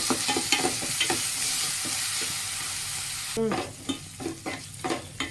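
Ginger garlic paste frying with browned onions in a pan for a France curry, a steady close sizzle with repeated stirring scrapes that turn into sharper, wetter crackles partway through.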